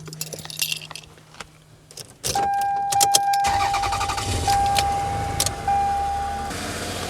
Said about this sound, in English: let's go ahead and test it first by turning on the vehicle